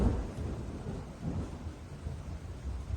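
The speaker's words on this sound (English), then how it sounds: "I actually have real thunder going on in the background" Real thunder rumbles low and distant in the background, a steady rolling roar that swells and fades over a few seconds with no talking.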